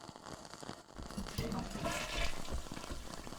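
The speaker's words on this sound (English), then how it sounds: "The toilet is still flushing as I grab the door handle to leave." A toilet flushes close by, a rising rush of water that swells and keeps gushing to the end.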